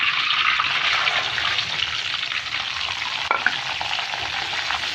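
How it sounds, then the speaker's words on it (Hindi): Semolina is stirred and roasted in hot ghee for milk halwa, giving a steady close sizzle with the soft scrape of a spoon, continuous and unbroken. "अब हमारा जो घी है ये आप देख रहे हैं अभी वो गर्म हो रहा है। इसमें आपने के पास जो सूजी है वो आपने ऐड करनी है।"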